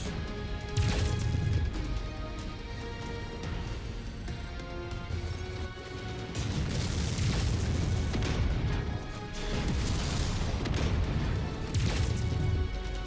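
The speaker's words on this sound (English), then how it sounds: "Missiles." Missile salvos burst in heavy booming waves during a MechWarrior 5: Mercenaries battle against a Thunderbolt mech, loud crashing explosions rolling nearly continuously with brief dips between impacts, over steady game background.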